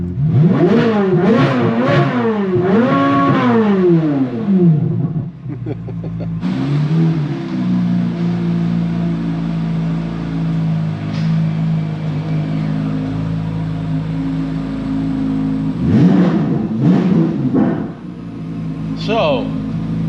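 Engine of a 2023 Corvette Z06 revving hard in repeated rising and falling bursts, then settling into a loud steady idle rumble before another round of revs, with people talking over it.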